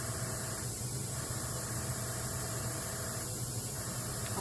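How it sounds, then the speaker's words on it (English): An airbrush blows a steady stream of air over alcohol ink to shape a flower's petals, giving a continuous, even hiss with no break for several seconds. "I'm letting the air move the alcohol. I'm barely moving my airbrush until I see it drying up."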